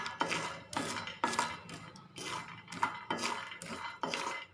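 A spatula scrapes and stirs cashew nuts and peanuts frying in a metal pan, making repeated rhythmic scraping strokes with light clinks, close and moderately loud.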